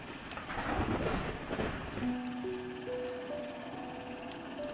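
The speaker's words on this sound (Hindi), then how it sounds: "आसमान में बिजली कड़कने लगी। तेज बारिश शुरू हो गई।" A rumble of thunder rolls over steady rain, followed by a rising melodic chime line against the downpour.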